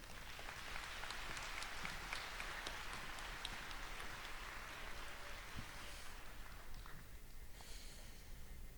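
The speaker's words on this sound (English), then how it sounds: "Please give Jeff a warm round of applause as he comes to the podium." Crowd applause at the Santaluces Community High School graduation ceremony as a speaker walks to the podium, a steady dense wash of clapping that carries on for several seconds before tapering off near the end.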